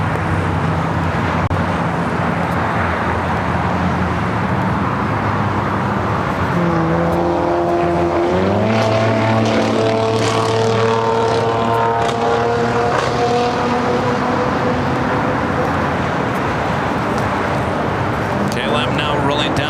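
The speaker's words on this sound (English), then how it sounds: "KLM now rolling down at 24 right there on the north side" A KLM Boeing 787-10 Dreamliner bound for Amsterdam rolls down runway 24 on the north side of LAX, its steady jet roar joined by rising, sweeping turbine whines as thrust builds, with a voice talking over it.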